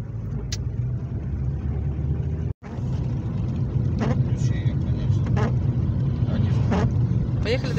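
A car drives along a road covered in the season's first snow, its engine hum and tyre noise steady and close throughout, with voices talking inside the vehicle.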